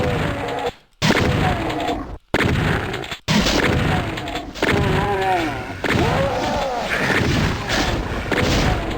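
Gunfire in the classic Doom game as zombies are shot: repeated loud blasts and impacts in a dense, cluttered run, with brief gaps of silence between bursts and growling monster noises mixed in.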